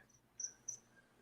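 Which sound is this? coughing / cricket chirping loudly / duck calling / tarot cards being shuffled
cricket chirping loudly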